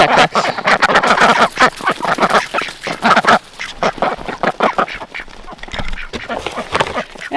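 A flock of Khaki Campbell ducks quacking loudly and continuously close by on a winter morning, with dense overlapping calls and a person's voice now and then beneath them.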